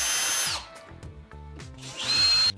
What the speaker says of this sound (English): So I took my drill